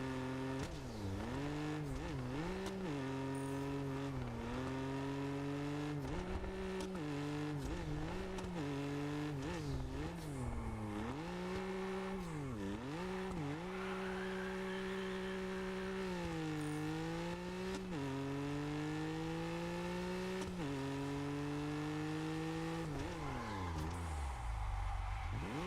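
A BMW's engine in a racing video game revs continuously for about 25 seconds, its pitch repeatedly climbing and dropping through gear changes and braking, loud and steady with no talking.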